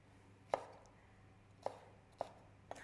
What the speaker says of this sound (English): Cutting that piece of pith out.